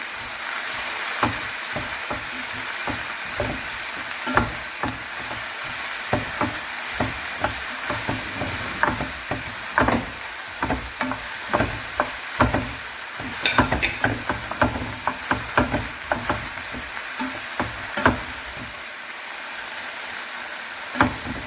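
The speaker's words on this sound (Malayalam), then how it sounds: "അപ്പോൾ നമ്മളൊരു മീഡിയം ഫ്ലെയിമിലിട്ടാണ് സവോള കുക്ക് ചെയ്യുന്നത്." Onions sizzling in a pan over a medium flame, a steady frying hiss broken by frequent clicks and scrapes of stirring, close and alone without speech.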